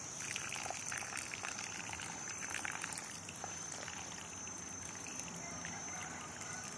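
Water trickling and splashing steadily onto soil around cucumber plants, a soft continuous pour close by with no voices.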